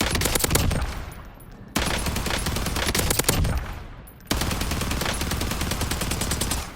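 An assault rifle fitted with a suppressor fires in a video game, loud dense bursts of rapid shots in three sustained strings, each trailing off briefly before the next begins.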